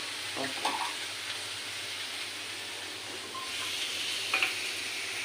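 Water poured into a hot pan while khar is cooked, producing a steady, fairly faint sizzle and hiss with a few light clinks and stirring sounds, no voices.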